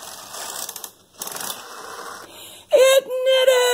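A Toyota 858 knitting machine carriage on a 950 bed knits its first row with rattling, ratcheting mechanical sweeps broken by a short pause, then an excited voice rings out loudly over the mechanism near the end.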